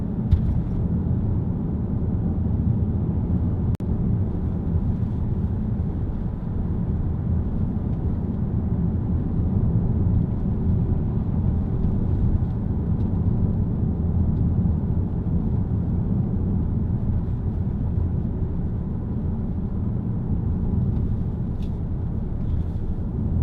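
Steady low engine rumble and road noise inside a moving Ford Kuga 2.0 TDCi, smooth and unbroken throughout.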